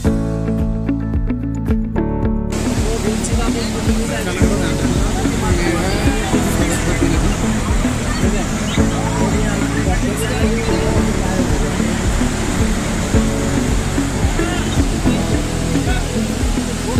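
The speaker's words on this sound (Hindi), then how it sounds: "सामने से सरस्वती नदी आ रही है।" The Saraswati river rushes past near Mana village beyond Badrinath in the Himalayas, a loud, constant roar of turbulent water close by that continues unbroken throughout, with a voice speaking over it.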